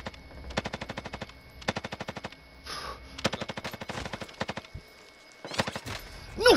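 Automatic gunfire in the Warzone video game, fired in several rapid bursts of sharp, evenly spaced shots separated by short gaps, with a few louder single cracks toward the end, and no voices present.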